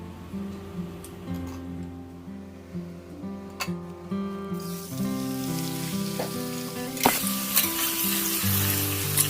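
Meat fries loudly in a pan beside slowly cooking khichuri, a dense crackling sizzle that swells partway through and turns fiercer near the end, with scattered utensil clinks against the pan.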